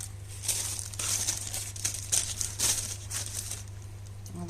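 A thin plastic bag crinkles and rustles in irregular bursts as a plate of homemade burger patties is slipped inside it in a home kitchen, with a steady low hum underneath.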